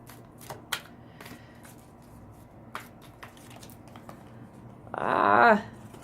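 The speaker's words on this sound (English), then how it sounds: "Actually, y'all, I'm gonna reshuffle" Tarot cards are shuffled, first as a few scattered soft clicks and slides. Near the end comes one brief, louder riffle shuffle in a quiet room.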